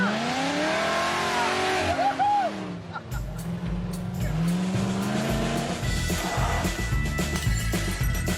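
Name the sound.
supercharged 1975 Jeep CJ5 engine revving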